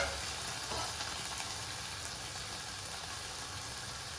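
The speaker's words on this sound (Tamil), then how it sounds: "குட்டி தக்காளியை நல்லா வதக்கி எடுத்துக்கலாங்க." Small tomatoes sauté in oil for mint chutney, a quiet, even hiss of sizzling that holds steady throughout with no other sounds.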